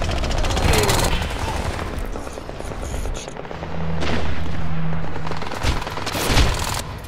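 Enemy gunfire rattles in bursts during Crysis 2 PC multiplayer gameplay, loud automatic fire with booming impacts and whooshing game noise throughout.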